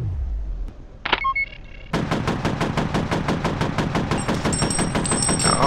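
Rapid automatic gunfire in the first-person shooter F.E.A.R., a dense run of evenly spaced loud shots preceded by a brief metallic clatter, close and continuous.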